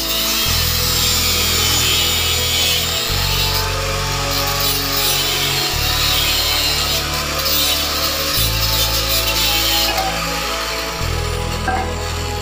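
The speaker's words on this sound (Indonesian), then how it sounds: "Kita potong juga seperti ini." A power saw cuts through a 12 cm length of UNP steel channel for a manual tyre changer, grinding loudly and continuously with steady repeated strokes, close up, and nobody speaks.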